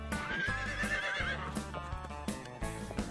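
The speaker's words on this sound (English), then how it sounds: "Horses are amazing animals." A horse whinnies loudly and close by, a long rising-and-falling neigh set against a busy backdrop of further rumbling and clattering sounds.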